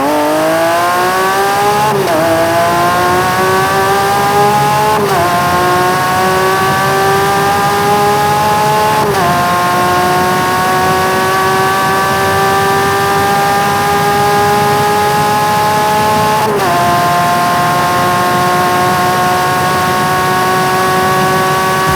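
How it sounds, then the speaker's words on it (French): A 2019 Lamborghini Aventador SVJ's V12 screams through a hard run from 0 to 250 km/h, its loud rising wail broken by four brief dips at the gear changes, with no talk over it. "Je vous propose un décollage immédiat avec un 0 à 250 km/h pour entendre chanter le V12"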